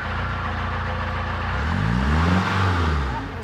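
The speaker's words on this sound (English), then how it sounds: "I am gonna turn on the engine for the first time since we put HVO in it" A narrowboat's diesel engine, newly running on HVO fuel, churns on for a moment, then turns over at about 1.5 seconds and settles into a low, steady running rumble close by.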